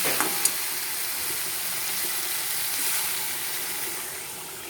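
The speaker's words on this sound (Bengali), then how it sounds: "এবার আমি দিয়ে দেবো জল" Water hits a hot pan of fried spice paste for fish curry and sets off a steady hissing sizzle, with a few sharp clicks at the start, close by and without any talking.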